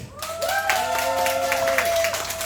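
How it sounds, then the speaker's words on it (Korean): An audience claps along in rhythmic bursts at a lively Korean sing-along show, with sustained tones of singing or music running through the clapping. "박수 한 번만 보내주세요"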